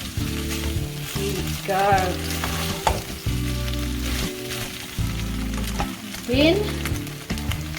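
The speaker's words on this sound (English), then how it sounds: "Give it a good stir." Gobi Manchurian frying in a pan while being stirred, a steady sizzle with scraping of a utensil, mixed with prominent background music and a brief spoken remark.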